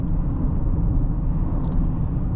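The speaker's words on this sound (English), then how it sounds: "immediately you do get a little bit of noise from the all-terrain tires" Steady low road rumble and tire roar from all-terrain tires on a 2026 Nissan Rogue while driving, a constant broadband drone heard from inside the cabin with no talk.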